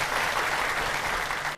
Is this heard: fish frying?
no